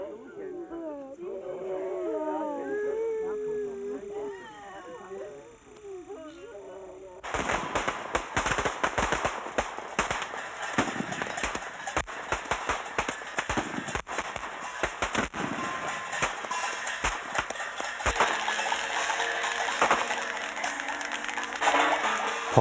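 A voice talks for several seconds. Then strings of firecrackers burst at a graveside ancestral rite in Taiwan, giving a long, loud, rapid crackle of dense popping bangs that keeps going to the end.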